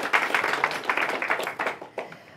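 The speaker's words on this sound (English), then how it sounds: "Let's applaud." An audience at a youth pitch competition final gives a short round of applause, a dense patter of claps at moderate distance that thins and tapers off after about two seconds.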